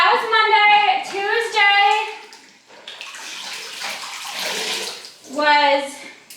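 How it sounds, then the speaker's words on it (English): Water splashing and pouring in a bucket as hot water with oil is readied for hot-toweling a horse, a sustained wash of sloshing between stretches of tonal voice sounds. "I just made some hot water with some oil to hot towel him while I chat."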